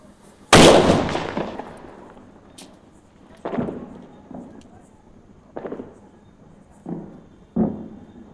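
A loud Diwali firecracker bang is followed by several smaller pops at irregular intervals, each trailing off quickly, with faint voices in between.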